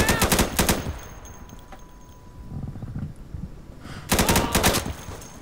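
Bursts of rapid gunfire rattle loudly at the start of a co-op Checkpoint match in the video game Insurgency, then quieter scattered shots and rumbling, before another loud volley of automatic fire near the end.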